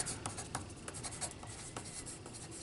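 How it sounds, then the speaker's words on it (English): A pen writes a name on the back of a sheet of paper, a faint close-up series of quick scratchy strokes with short pauses between letters. "put my name on the back of my paper"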